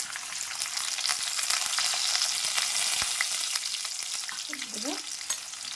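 Onions fry with urad dal, chana dal and cumin in a steady, dense sizzle while stirring makes occasional clicks, and a voice briefly speaks near the end.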